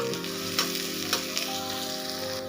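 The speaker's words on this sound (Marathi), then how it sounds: "कांदा सुद्धा ते कलर चेंज होईपर्यंत, त्याचा कच्चेपणा जाईपर्यंत परतून घ्यायचा।" Onion sautéing in a pan for vermicelli upma gives a close, continuous sizzle, broken by a few short scrapes of stirring.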